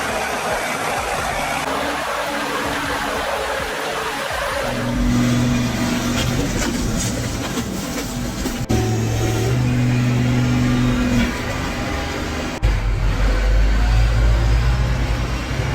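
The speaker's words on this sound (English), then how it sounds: "It's a real beast in the muck, hauling a massive timber load with its wheels sunk way down in that thick mud." Valtra tractor hauling a heavy timber load through thick, deep mud, its engine droning and surging in loud revving stretches with shifting pitch and rough churning noise throughout.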